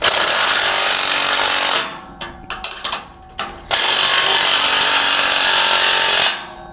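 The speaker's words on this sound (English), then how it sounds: "Grabbing the 3/4 inch. 3/4 inch wrench and Love it. socket. I'll tighten this coupler right on." A 3/4 inch socket ratchet wrench tightens bolts on the coupler of an overland tent trailer, with a long, loud, rapid clicking run, a stretch of short separate ratchet strokes, then another long, steady burst.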